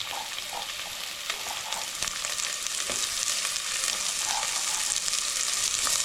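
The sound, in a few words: onion, garlic, coriander and curry leaf tempering frying in hot oil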